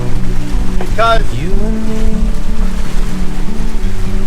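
A cruising sailboat heels under wind at over 7 knots, giving a loud, steady rushing wash of water and wind. A brief voice-like tonal sound rises early on over the constant roar.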